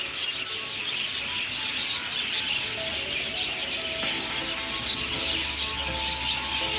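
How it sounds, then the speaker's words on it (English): Small birds chirp and tweet steadily at a Jamaican waterfall park surrounded by plants, many overlapping calls forming a continuous bright chorus over a low outdoor hum. "Some cute little birds."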